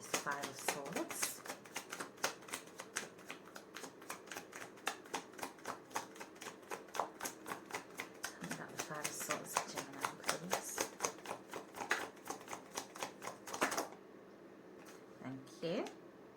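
Tarot cards being shuffled by hand, a long run of quick crisp riffling ticks that stops near the end, with a voice talking quietly underneath.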